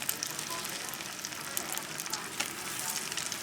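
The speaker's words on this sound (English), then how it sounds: "We're going to saute in the butter" Endive sautéing in butter that is browning in a pan, giving a steady, close crackling sizzle with scattered pops throughout.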